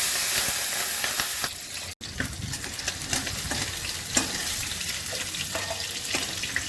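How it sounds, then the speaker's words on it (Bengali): Prawns fry in a pan in a home kitchen, making a continuous close crackling sizzle with occasional stirring clinks, briefly cut near the start, with no talk. "প্রথমে চিংড়ি মাছগুলো ভেজে নিচ্ছি।"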